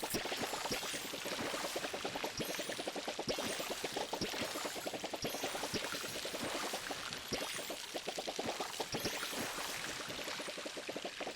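Water poured from a watering can onto plants in the cozy life-sim game Palia, a steady splashing trickle running continuously and evenly throughout, fairly close with no talk.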